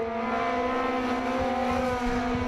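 Sport compact race cars drone steadily at a speedway, a sustained high engine whine with a constant tone holding under distant track noise for the whole stretch.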